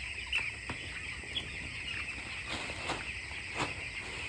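Broiler chickens on a poultry farm under brooders make scattered soft clucks and peeps at a distance, against a steady high insect-like hiss and faint background rumble.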